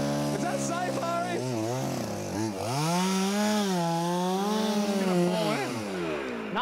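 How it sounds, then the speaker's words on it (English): A chainsaw cuts through ice with a loud, close engine whine that rises and falls in pitch as the blade bites and revs, running continuously throughout. "cold enough to warrant using a chainsaw to get through it"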